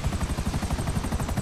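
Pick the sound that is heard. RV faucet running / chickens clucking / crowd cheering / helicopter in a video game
helicopter in a video game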